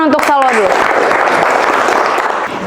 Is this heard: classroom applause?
yes